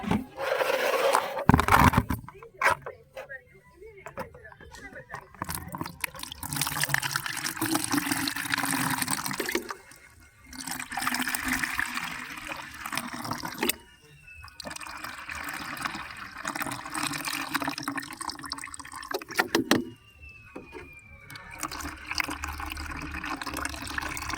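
An aloe vera plant nutrient solution is filtered and poured, giving quiet, intermittent trickling and splashing with some scraping, broken by short silences.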